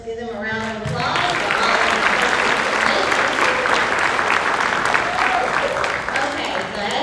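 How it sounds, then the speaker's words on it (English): A voice speaks briefly, then a room full of people breaks into sustained, loud clapping that continues evenly to the end. "Let's give them a round of applause."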